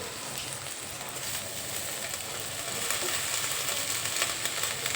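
Fenugreek greens (methi) sizzle and fry in a pan over high heat with browned onion, a steady close crackling hiss that grows slightly louder toward the end.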